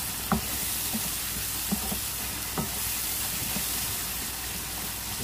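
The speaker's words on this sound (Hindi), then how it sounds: "यहाँ पर हम डालने लगे हैं अपना अदरक।" Long strips of ginger sizzle and fry steadily in hot oil for chana dal, a constant broadband hiss with a few soft stirring knocks, close and continuous with no voices.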